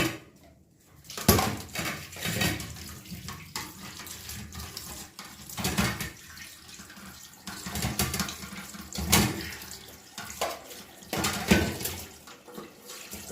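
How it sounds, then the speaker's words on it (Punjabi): Peeled carrots washed under a running kitchen tap, with water gushing and splashing in bursts as they are turned by hand, close and moderately loud, with no talk. "ਇਹ ਮੈਂ ਛਿੱਲ ਲਈਆਂ ਗਾਜਰਾਂ ਤੇ ਇਹਨੂੰ ਹੁਣ ਆਪਾਂ ਧੋ ਲਾਂਗੇ"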